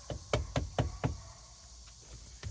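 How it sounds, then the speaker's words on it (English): A used cabin air filter from an old Honda Odyssey is knocked against a hard surface to shake off debris: five quick, close knocks in a steady rhythm, then a couple of fainter taps. "You can just kind of knock this off out here"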